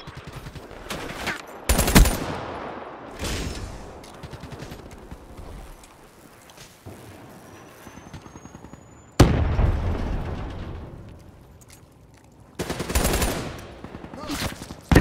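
Rapid bursts of video game gunfire and explosive booms in a fast arena shooter, loud and dense at the start, easing off midway, then hammering back in heavy volleys with a player voicing occasional remarks over the action.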